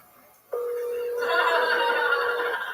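A telephone line tone holds steady and clear, then thickens into a fuller ringing buzz that continues unbroken while the call waits to be answered, with faint background noise and no talk.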